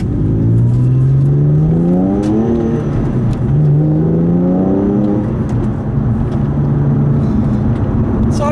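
A 2007 Porsche 911 Carrera Targa 4S with a manual gearbox accelerates through the gears, its engine note rising, dropping at each shift, then rising again, loud and close throughout.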